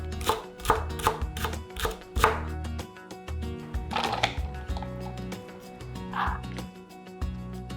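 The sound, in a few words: finely chopping a whole Japanese leek with a knife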